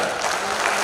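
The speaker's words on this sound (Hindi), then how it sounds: "अरे ताली वाली बजाओ" A brief burst of audience applause at a Hindi poetry gathering, a dense steady patter of clapping hands throughout the short moment.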